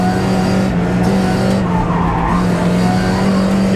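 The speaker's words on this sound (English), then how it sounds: "let's see if I still remember how to downshift this car" A race car engine roars loudly and steadily on a track, with tire noise underneath and a downshift changing the engine pitch partway through.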